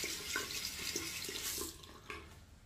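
Water running from a tap while a tallow shaving soap lather is built with a vintage Century badger brush, a steady close splashing wash with faint knocks and drips, no voices.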